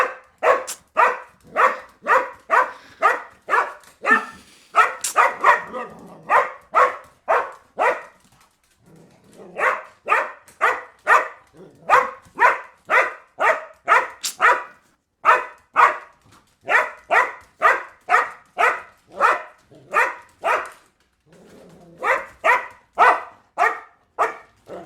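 A dog barks over and over in fast, regular bursts of sharp barks separated by brief pauses, loud and close, with a few softer whimpering moments between runs and no voices.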